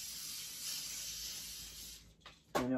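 A household cleaning spray hisses in one long, close burst lasting about two seconds, followed by a brief pause and a short sharp knock or rustle.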